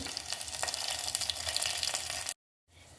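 Curry leaves sizzle and crackle in hot oil for tomato rasam, a dense, bright frying hiss that cuts out abruptly near the end, then returns more quietly.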